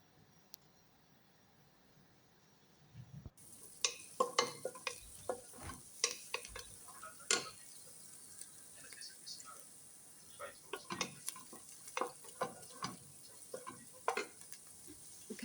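A pot of food sits cooking on a home stove for an Ethiopian meal, giving off faint sizzling and scattered close clicks and scrapes after a quiet start, with a soft voice at times.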